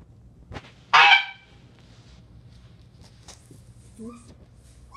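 A goose lets out one loud, sharp honk indoors, followed by a softer call and faint footsteps and shuffling in a quiet room.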